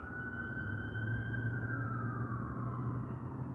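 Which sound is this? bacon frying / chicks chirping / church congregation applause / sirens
sirens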